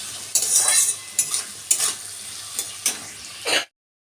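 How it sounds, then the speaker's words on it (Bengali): Potatoes frying in hot oil in a wok give a steady close sizzle, broken by several sharp stirring scrapes and bursts before it cuts off. "আলুগুলোকে ভেজে নিচ্ছি আলু ভাজা হচ্ছে আমার"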